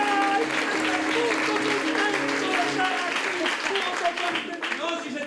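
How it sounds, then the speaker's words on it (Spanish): Audience at a theatre circus show applauds steadily and loudly, with music or voices carrying tonal lines beneath the dense clapping throughout. "fuerte el aplauso para el gran Michelangelo"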